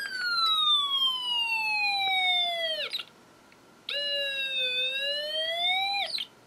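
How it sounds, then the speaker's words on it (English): A Snap Circuits alarm IC wails through a sensor with its contacts in water, giving two long siren-like falling sweeps separated by a short gap, loud and close with no talk. "our alarm IC is going off"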